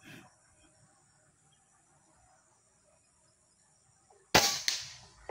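One sharp shot rings out from a Taurus airgun fired at a 50-meter target, loud and close, following a long stretch of quiet outdoor background with crickets chirping faintly.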